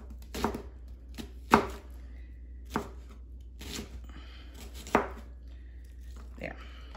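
Knife chopping food on a cutting board: five or six sharp, separate thwacks spaced irregularly, fairly close and clear over a low steady hum, with no talking.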